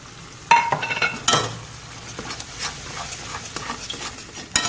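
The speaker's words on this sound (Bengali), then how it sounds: "এবার এই আদা রসুন কাঁচা লঙ্কার পেস্টটাও দিয়ে দেবো দিয়ে একসাথে ভালো করে কষাবো" Ginger, garlic and green chili paste is stirred and sautéed with onion and tomato paste in a pan, a soft sizzle broken by sharp scrapes and clinks of a metal spoon against the pot.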